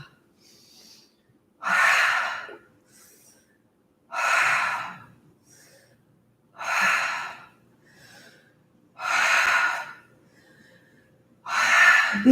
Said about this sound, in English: Maybe that's a big inhale through the nose.